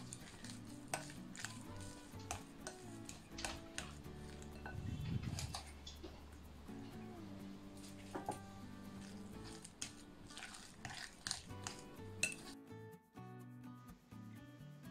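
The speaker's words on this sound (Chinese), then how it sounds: "每添加1次要充分的拌匀" Mashed Chinese yam is stirred together with milk, giving soft, irregular scraping and squishing strokes that come and go near at hand, with faint clinks of a utensil against the bowl over a quiet tonal background.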